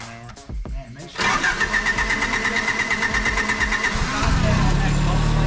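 A blown small-block Chevy V8 in an S10 truck cranks and catches, then settles into a loud, rough, lumpy idle close by, with voices in the background.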